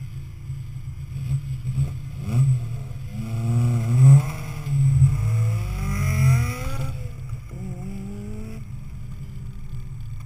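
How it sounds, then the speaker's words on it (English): A supercharged Lotus Elise pulls away from the start line at an autocross, its engine revving through rising gear sweeps with a supercharger whine, moderately close then fading slightly. "Just left the line in his supercharged Lotus Elise."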